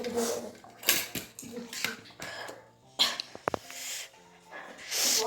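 Dishes being washed at home during a party, with clinks of pots, plates and cutlery in irregular bursts, splashes of water, and people talking and coughing nearby.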